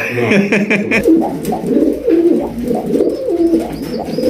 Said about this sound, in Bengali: ওরে কি ডাক প্রত্যেকটা কবুতর মাশাল্লাহ ডাকের স্টাইলটা দেখেন